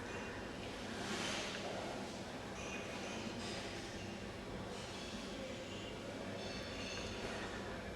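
A pitch-black steam locomotive rumbles and rolls past on a UK heritage railway, a continuous dense roar of wheels and machinery, moderately loud and steady, with faint occasional squeals on top.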